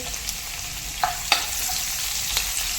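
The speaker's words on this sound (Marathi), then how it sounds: "पसरट भांडे घ्यायचं नूडल्स तयार करण्यासाठी आता याच्यामध्ये हिरवी मिरची" Green chilli frying in a wide pan over a high gas flame while chicken noodles are prepared, giving a steady soft sizzle with a few sharper crackles and stirring clatters.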